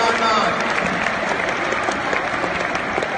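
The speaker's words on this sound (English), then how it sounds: "Give them a round of applause." An indoor arena audience at a dog agility competition claps steadily in a dense, sustained round of applause, with voices faintly mixed in.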